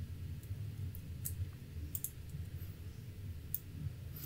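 Soft computer mouse clicks at a desk, a handful of faint isolated taps spaced irregularly over quiet room noise.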